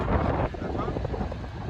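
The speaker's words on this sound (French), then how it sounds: "Il y a du vent à mourir de face comme par hasard." Strong headwind buffets the microphone while cycling, a loud, rough roar with gusty swells that ease slightly after the first half second.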